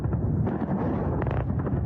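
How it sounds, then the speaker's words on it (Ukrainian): Booming thuds and crackling bursts of distant air defense fire roll over a constant low rumble, a few sharper cracks standing out near the middle, at night over a port in Krasnodar Krai during a naval drone attack. "Відео з яскравими спалахами над портом та звуки хаотичної роботи ворожої ППО"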